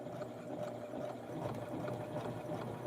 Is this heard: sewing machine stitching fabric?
yes